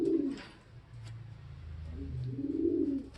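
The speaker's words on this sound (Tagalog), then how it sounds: "Ayan, ang ibon na to galing pang Romania." A pigeon imported from Romania coos nearby in soft, low, throaty rolls, one short call followed by a longer rising and falling coo, with faint background noise and no voices.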